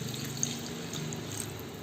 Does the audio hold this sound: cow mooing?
no